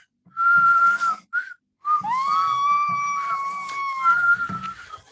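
A person whistles a few short, wavering tones, pausing between them, then holds a longer rising note; the whistling is close, clear and somewhat unsteady.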